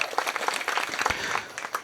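An audience at an award ceremony bursts into applause for an award recipient, a dense burst of clapping close by that carries on throughout.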